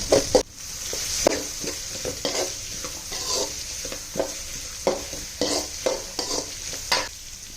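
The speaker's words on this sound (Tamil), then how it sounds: "வெங்காயத்தையும் நல்லா போட்டு கலந்து வச்சுக்கோங்க." Onions and dried chillies frying in a pan crackle and sizzle steadily while a spoon stirs them in a rhythmic series of scraping strokes, close and clear with no talking.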